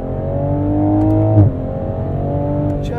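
A 2021 Toyota Supra 3.0 Premium running in sport mode gives a steady, close engine drone with a brief dip and shift in pitch midway, then settles back into an even hum.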